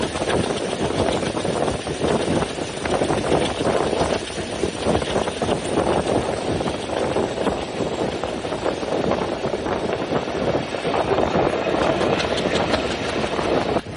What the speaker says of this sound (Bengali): আজকে আমরা খুলনা স্পেশাল ট্রেনের মাধ্যমে যাচ্ছি জাহানাবাদ এক্সপ্রেস ট্রেনের রুট ধরে সরাসরি ঢাকা পর্যন্ত।